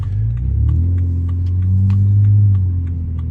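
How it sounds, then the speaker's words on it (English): Tuned BMW 330i (converted from a 325i, MSV70 engine) running close by, a steady deep engine rumble that swells slightly as it revs, loud and alone. "I just finished the tune, and now the car is running absolutely fucking mint."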